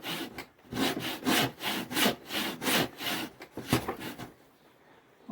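A kerfing plane saws about half an inch deep into a piece of wood, giving loud, close, rhythmic back-and-forth strokes, roughly ten in quick succession, that stop near the end.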